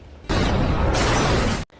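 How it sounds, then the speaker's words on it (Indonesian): A bomb blast in an Indonesian drama film bursts in suddenly as a loud, sustained broadband roar lasting over a second, then cuts off sharply into quiet background. "Seketika bom pun meledak."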